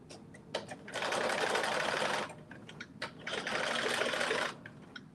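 A sewing machine set to a long basting stitch runs a 5/8-inch seam in two steady whirring bursts of about a second and a half each, with soft clicks and taps before and between them.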